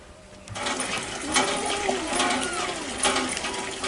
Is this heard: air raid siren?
no